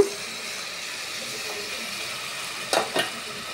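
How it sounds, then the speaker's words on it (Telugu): Goat leg curry with freshly pounded garam masala sizzles steadily in a pan, then tamarind juice goes in with two short splashing bursts near the end. "చింతపండు పులుసు వేస్తున్నా"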